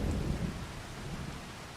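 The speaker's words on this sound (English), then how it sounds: "It's raining." Thunder rolls over steady rain in Farming Simulator 25, a deep low rumble that swells at the start and slowly fades beneath a constant hiss of falling rain, with no one talking.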